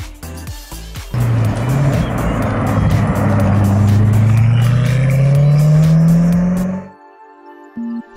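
A Koenigsegg Agera R supercar drives through London streets, its engine rising in a long, loud rev as it accelerates past nearby, then cutting off abruptly into quiet.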